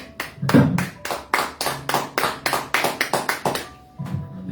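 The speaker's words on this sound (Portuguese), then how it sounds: "Aplauda o Senhor." A church congregation applauding, a series of loud bursts of clapping in uneven waves, close and crowded, with no talking over it.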